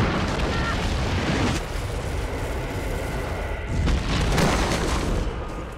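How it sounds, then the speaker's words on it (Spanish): An anti-personnel landmine packed with TNT goes off in Mozambique, a dense, loud booming roar that fills the scene, with a second heavier burst surging near the end. "Pero activó una mina antipersonal"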